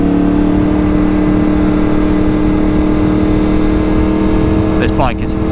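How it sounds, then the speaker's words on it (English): A BMW R1250 GSA motorcycle engine held flat out at full throttle, a steady loud drone with constant wind rush that barely changes across the stretch, a brief shift in pitch near the end. "This bike is flat out."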